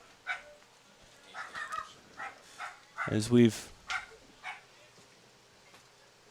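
A dog barks several times at a minor-league baseball game on a dog-friendly night, a sharp cluster of yaps rising over the crowd, with a commentator talking before and after.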